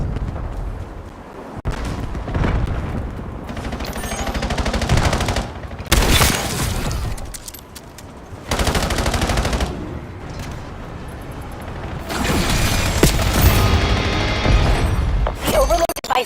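A point turret fires rapid, sustained machine-gun bursts in Call of Duty Black Ops 7. The loud barrages come in several long stretches, separated by brief lulls of quieter battlefield noise.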